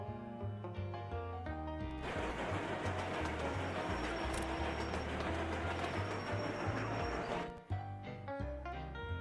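Several fully loaded freight trains rolling along in a factory-building video game, a steady rumbling mechanical clatter with tonal hum that swells in the middle section and continues without a break, no talking.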